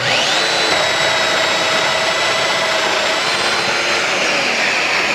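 Festool Domino XL joiner plunging a mortise into the edge of a wooden table apron, a loud steady motor whine with a high tonal pitch that holds for about five seconds and stops at the end, with no talking.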